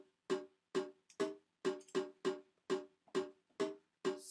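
A drum hit in a programmed beat pattern repeats about ten times at an even pace, each stroke short and percussive with a quick decay, fairly quiet and alone.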